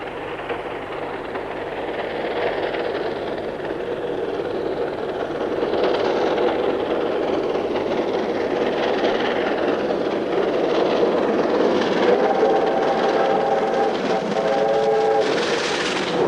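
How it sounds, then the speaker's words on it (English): R-Class steam locomotive 707 passing Karlsruhe at speed on a preservation run in Australia, a loud roaring rumble of wheels and exhaust that builds and stays strong, with a brief horn-like tone near the end. "R-Class put in some spirited performances, and 707 is flying as it passes Karlsruhe"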